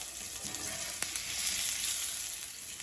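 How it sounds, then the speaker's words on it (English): Blackened salmon sears in a hot pan with a continuous bright sizzle, soft and fairly close, broken by a few sharp spatula clicks and brief scrapes. "We just wanna sear it."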